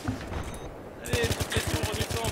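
Gunfire in the video game Battlefield 3: rapid automatic bursts of shots in quick succession, loud and close, with gamers talking over the shooting.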